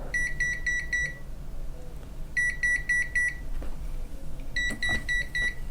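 Three bursts of rapid, high-pitched electronic beeping from a Uni-T UT210e multimeter on overrange in AC volt mode, each a quick train of short tones, separated by pauses, with faint background noise.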